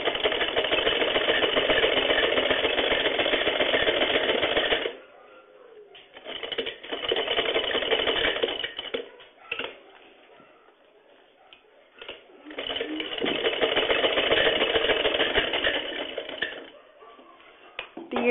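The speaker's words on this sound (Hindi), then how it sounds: "पकड़ने के बाद ऊपर से सिलाई चला लेंगे।" An electric sewing machine stitches a blouse, its fast, steady whirring running in close, loud bursts of several seconds separated by short pauses and quieter handling.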